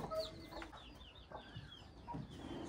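Chickens in a rural village yard in Muzaffargarh, Pakistan, give scattered soft clucks and short calls at moderate distance over faint outdoor background noise.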